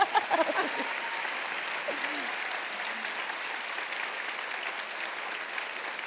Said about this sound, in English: a big round of applause for this fantastic panel